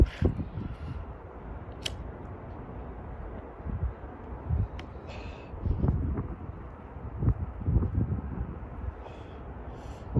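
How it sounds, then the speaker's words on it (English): Wind buffets the microphone in low, uneven gusts, rising and falling, with a few faint rustles and clicks scattered through. "it's really windy up here. It's a windy day."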